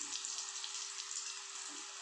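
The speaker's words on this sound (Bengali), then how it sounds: "সুন্দর করে আমি এগুলোকে ভেজে নেব" Food frying in a pan with spices: a steady, hissing sizzle that holds at an even level throughout, close by and fairly faint, with no voices.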